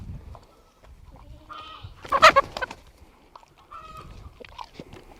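Chickens cluck on a farm with a dog nearby, short scattered calls rising to a louder burst of squawking midway, then quieter clucks again, with no talking.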